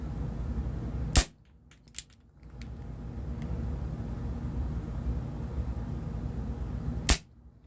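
Two sharp, loud cracks from a Barra 1858 CO2-powered BB revolver ring out outdoors several seconds apart, separated by faint clicks and low background rumble.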